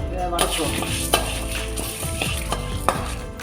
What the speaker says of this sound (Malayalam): ജീരകം, മഞ്ഞൾപ്പൊടി ആൻഡ് വറ്റൽമുളക് ഇത്രയും ഡ്രൈ ആയിട്ട് ഓയിൽ ഇടാതെ ഡ്രൈ റോസ്റ്റ് വറുക്കുക.